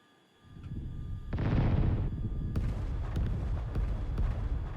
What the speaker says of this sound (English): Go ahead and drop our 2 larger bombs on there.